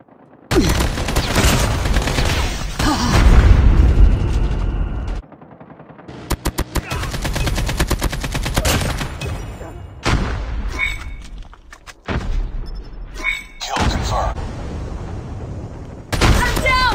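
Call of Duty Mobile gunfire in Pumpkin Confirmed mode: loud sustained automatic bursts and rapid volleys with short pauses, close and dense, with occasional game voice callouts between shots.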